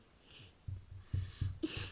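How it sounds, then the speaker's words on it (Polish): Someone sniffles and snorts through a congested nose, giving several short, wet bursts in a loose rhythm, heard up close. "Sorry, tak dużo smarkam"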